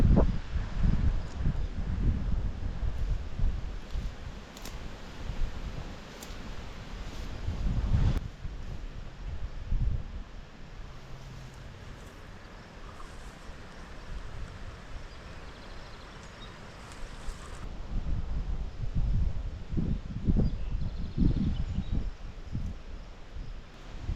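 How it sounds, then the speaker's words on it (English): Strong wind gusts buffet an outdoor farm pasture where meat goats are kept, roaring loudly with heavy low rumble and microphone buffeting, easing midway and then surging again toward the end, with no voices. "It's getting really windy."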